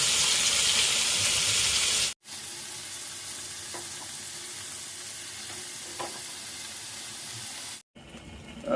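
Chicken meat fries in a pan with a constant loud hiss and sizzle that breaks off sharply twice. A faint clink of stirring can be heard within it.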